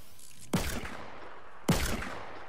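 Two sharp, loud gunshot bursts from a video game, each a sudden crack with a short decaying tail, spaced about a second apart with quiet between.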